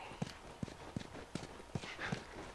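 Steady clip-clop of a horse walking in The Last of Us, six evenly spaced hoof falls, close and moderately loud, over a quiet game ambience.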